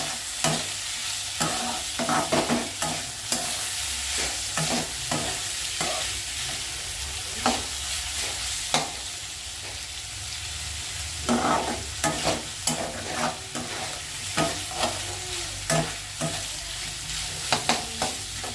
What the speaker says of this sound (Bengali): এখানে এখন লাউয়ের খোসা ভাজা চলছে, আলু দিয়ে লাউয়ের খোসা ভাজা।